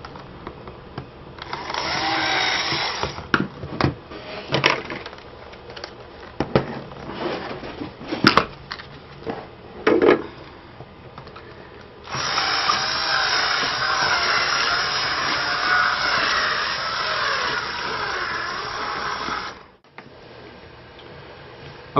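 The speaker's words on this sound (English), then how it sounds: "I'm just going to bring the drill in like a circular motion just to make the hole a little bit bigger." A battery power drill widening a hole whirs in short bursts, then runs steadily for several seconds before stopping, close by with grinding, uneven tone.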